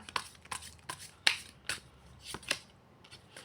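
Tarot cards are shuffled in a quiet room, a run of crisp flicks and papery slaps in an uneven rhythm, close and fairly soft, with no voice.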